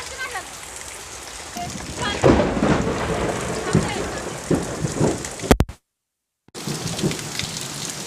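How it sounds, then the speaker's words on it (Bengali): Heavy rain pours steadily with rolling thunder rumbling through during a storm, loud and close, with a brief dropout near the end; people talk faintly underneath. "বৃষ্টি তো কমবে না আজকে, মানে আছে, মেঘ ডাকছে এখন।"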